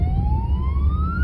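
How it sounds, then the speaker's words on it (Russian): An emergency vehicle siren wails from outside a moving car, one steadily rising tone clearly audible over the low rumble of road and engine noise. "Слышу сирену экстренных служб."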